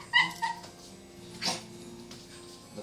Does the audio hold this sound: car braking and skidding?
no